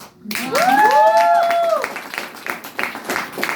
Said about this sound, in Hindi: छोटी है ना इसलिए हम ताली बजा रहे हो